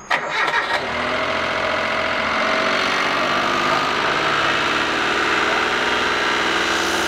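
A cogeneration gas engine cranks with a short burst of rattling, catches, and then settles into a loud, steady idle that runs on unchanged.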